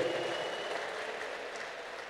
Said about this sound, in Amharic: እልልታ ጭብጨባ ክብር ይሁንለት።